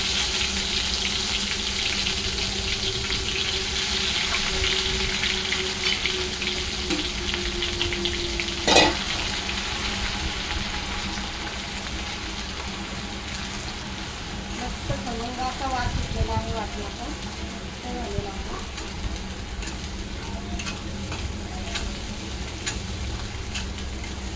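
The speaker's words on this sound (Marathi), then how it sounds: "तेल आपलं गरम झालेलं आहे तर गॅस कमी करून घेते मी यामध्ये आपण हे बनवलेलं वाटण घालून घेऊ" Ground masala paste sizzles steadily in hot oil on lowered heat while cooking a spicy mutton rassa, a continuous close frying hiss with occasional stirring scrapes.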